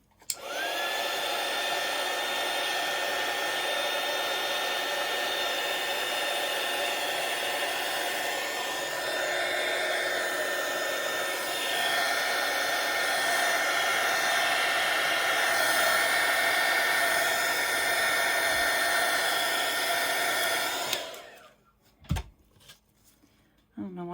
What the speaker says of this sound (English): let me get this heat gun